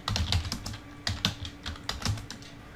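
Rapid typing on a computer keyboard while entering Bengali text through Google Input Tools, with irregular bursts of close, crisp key clicks and short pauses between words.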